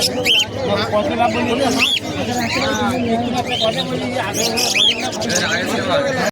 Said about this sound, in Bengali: এখানে কিছু পাখিও আছে জাভা আছে বদ্রি আছে